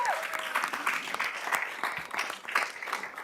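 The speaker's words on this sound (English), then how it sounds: "let's give him a round of applause" Sustained applause fills a county commissioners' board meeting as a band senior and drum major is introduced, dense steady clapping throughout with no talk over it.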